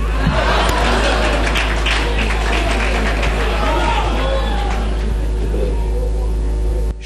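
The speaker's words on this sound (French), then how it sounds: "Vous voyez comment est-ce que le chef est applaudi." An audience claps and laughs for a chief, a continuous rumble of applause and chuckles with a voice talking over the crowd throughout.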